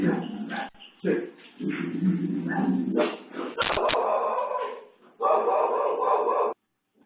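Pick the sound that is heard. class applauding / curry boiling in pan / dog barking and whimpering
dog barking and whimpering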